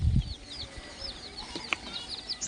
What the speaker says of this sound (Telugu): ఈ కోడి పిల్లలు చూడండి ఎలా ఉన్నాయో